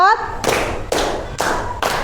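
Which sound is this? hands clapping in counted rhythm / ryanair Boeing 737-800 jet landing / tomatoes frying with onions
hands clapping in counted rhythm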